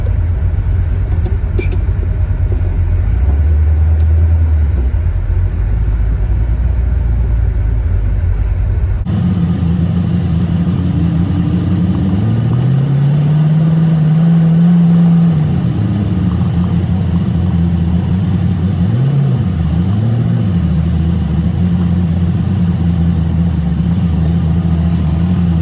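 Car engine droning steadily while driving on a highway in traffic near Chattanooga, Tennessee, loud and close, with road rumble and rising and falling engine pitch as the car shifts and accelerates.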